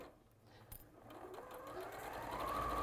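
A sewing machine stitches a plain seam on a garment yoke, its motor whirring up from quiet into a steady, rising hum that grows louder and faster toward the end.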